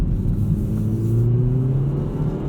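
Interior engine note of a 2018 Hyundai Elantra GT Sport driven at night, a steady loud rumble with the pitch climbing as it accelerates up an entrance ramp, with no talking.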